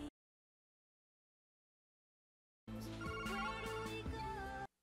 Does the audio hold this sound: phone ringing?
yes